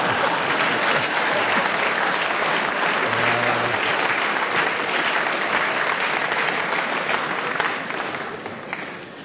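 Generous, sustained applause from a large conference audience at Davos, dense and loud for most of the stretch before tapering off toward the end.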